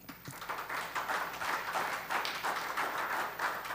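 Audience at a county school board meeting claps in a steady, fairly soft round of applause that continues evenly for several seconds, heard from a slight distance.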